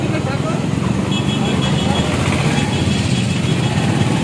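Heavily congested road traffic near Uluberia court, a steady loud wash of engines and road noise from cars and motorcycles close by, with people talking underneath.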